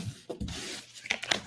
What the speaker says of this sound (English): You guys see that I'm shuffling